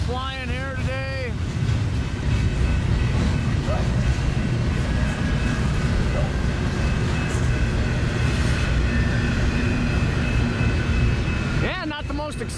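Long freight train hauled by two locomotives rolling slowly past outdoors, a steady broad rumble and rattle of wagons lasting throughout, with wind buffeting the microphone and brief horn-like tones at the start and end.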